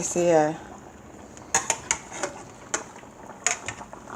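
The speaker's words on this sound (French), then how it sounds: "c'est en train de cuire tout doucement, frémir" A turkey leg simmers gently in its own juice with no added water, giving faint sporadic pops and soft clinks of a pan or utensil after a brief voice at the start.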